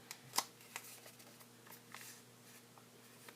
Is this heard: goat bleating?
no